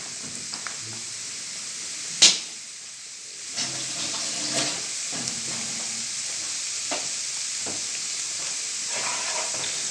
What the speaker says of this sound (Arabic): نبدأ كده نقلب التومة مع السمنة لغاية كده لما تاخد لون